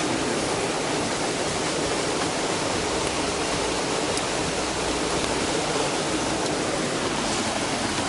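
Steady, dense roar of Gürleyik waterfall in a Kastamonu forest at night, heard near the campsite at its base; loud and unbroken, with no voices.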